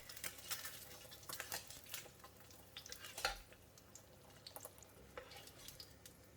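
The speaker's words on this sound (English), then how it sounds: "Pour the hot oil over the egg to quickly cook the white while maintaining the runny yolk" An egg fries in hot oil in a wok with a faint, steady sizzle, broken by soft scrapes and light spatters as oil is spooned over it.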